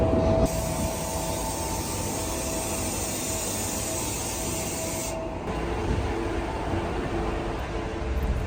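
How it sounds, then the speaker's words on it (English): A Eurotunnel shuttle train in motion: a continuous loud rumble and rushing hiss, steady throughout, with a high whine that cuts off partway. "We are getting on the train, the Euro Tunnel."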